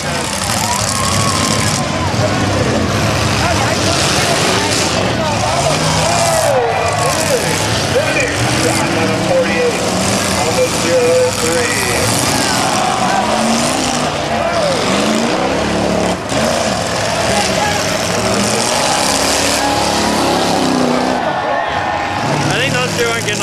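Demolition derby cars, including a street stock heat, roar and rev continuously around the arena, a dense loud engine din with rising and falling revs, while people talk over it.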